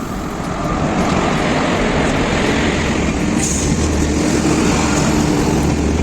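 Diva Express train pulling into Kankavli station, a loud, steady rolling rumble and rattle of rail cars that continues throughout without any talking.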